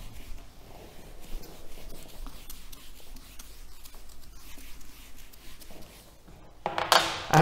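Chalk or marker scratching across a classroom board in short strokes, quiet and close, followed by a louder rubbing burst at the end.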